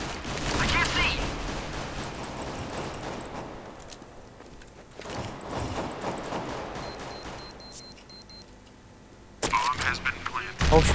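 Pistol shots ring out in Counter-Strike: Global Offensive on the de_dust map, with a sharp cluster of cracks at the start and another volley of shots at the end, separated by quieter game ambience.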